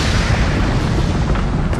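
A loud cartoon explosion from an animated Dragon Ball Super scene: a single sustained boom with a heavy rumbling body that fills the whole moment and fades slightly at the end.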